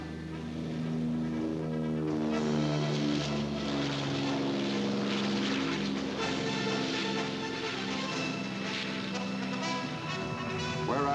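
A Caribou military propeller transport plane drones steadily at a moderate distance, with a continuous engine and propeller hum that holds level the whole time.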